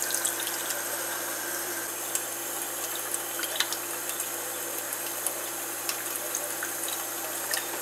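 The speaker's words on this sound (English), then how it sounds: "I'll rinse this through and get some of this separated on through here." Steady running water, as from a tap into a sink, rinsing heirloom beefsteak tomato seeds, a continuous even wash of moderate volume with small splashy flickers and no talk.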